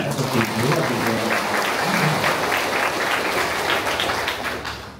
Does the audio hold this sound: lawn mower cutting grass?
no